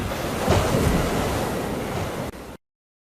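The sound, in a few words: waves hitting a ship's deck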